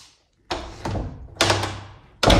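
A newly installed door in a house being finished swings shut with a solid thunk, and several further thuds and knocks follow at close range in a quiet room.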